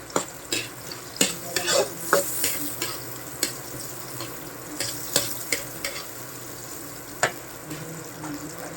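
Onions sizzle and fry in a hot pan for pork steak, with a steady crackle broken by sharp, irregular scrapes and clinks of a utensil stirring against the pan, close and without talk.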